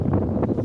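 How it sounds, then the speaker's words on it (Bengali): Strong wind buffeting a phone microphone outdoors while trees sway, a steady low roaring rumble with gusty swells throughout the short moment, no voices. "কত বাতাস এবং গাছপালা নড়ছে"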